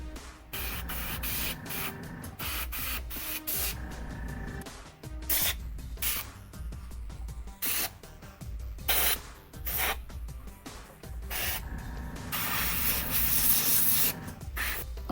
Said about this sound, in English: spray the brush with the airbrush to get some mud splatter on this car